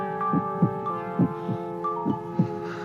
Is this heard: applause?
no